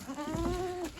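A single goat at a village home lets out one close, wavering bleat lasting about a second.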